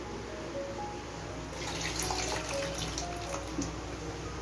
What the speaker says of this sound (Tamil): எடுத்து வச்சிருக்கிற புளி தண்ணியை இது கூட சேர்த்துக்கிறேன்.